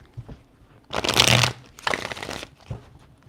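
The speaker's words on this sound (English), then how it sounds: "3 shuffles." Tarot cards are shuffled in two clear bursts of riffling, close and fairly loud, with a brief soft tap of the deck before and after.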